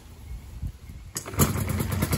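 A Yamaha Banshee ATV engine catching after a tire kick start in second gear, a quiet rustle followed by a sudden close, loud two-stroke burst that keeps revving unevenly.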